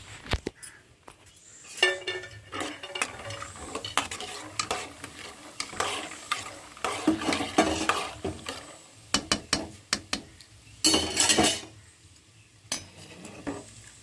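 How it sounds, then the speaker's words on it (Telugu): Peanuts sizzle in hot oil while a utensil stirs and scrapes against a pan, with irregular clinks and bursts of frying throughout. "ఇంకా పల్లీలు కూడా ఫ్రై అయినాయి కదా"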